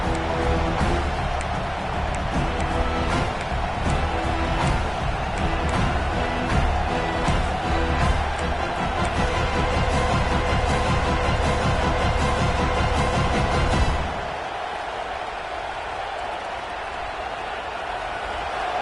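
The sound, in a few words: stadium crowd noise in Madden football video game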